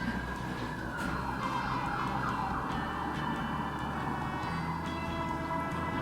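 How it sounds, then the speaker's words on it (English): Emergency vehicle sirens wail outside in a busy city, heard through a closed window as a continuous, wavering tone with steady background noise. "Sirens and helicopters,"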